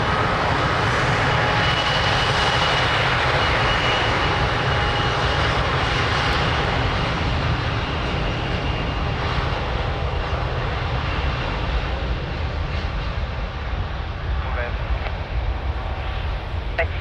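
An airplane's engines roar loud and steady as it takes off from runway 02 at Lisbon Airport, with the sound fading slightly over time and radio talk faintly underneath.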